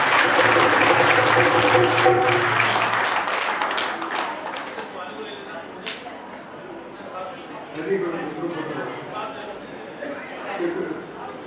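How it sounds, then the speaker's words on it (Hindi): At an Arya youth council foundation-day event, audience applause rings out strongly at first then thins into scattered claps, with people talking and chattering underneath as it fades. "तालियां जोरदार बजाओ"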